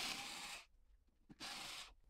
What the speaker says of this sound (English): Remove the 2 screws holding the cover plate.